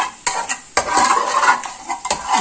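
Potatoes with masala and yogurt are stirred in a cooking pot, giving several sharp metallic scrapes and clanks of a spoon against the pot over a soft sizzle, close and fairly loud.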